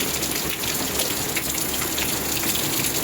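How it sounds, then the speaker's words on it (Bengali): A heavy downpour roars without a break, dense rain drumming hard on surfaces close by. "মুষলধারা বৃষ্টি হচ্ছে।"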